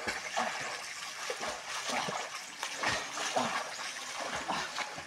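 People splash and wade in a river, a continuous close wash of water with irregular splashing bursts and trickling, and no clear talk over it.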